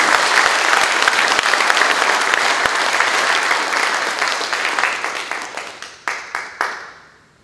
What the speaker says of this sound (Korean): 여러분 축하의 박수 한번 사랑의 박수 힘차게 보내주십니다